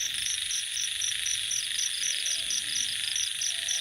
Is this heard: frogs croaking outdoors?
yes